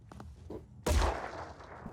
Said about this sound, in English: Still shooting the shield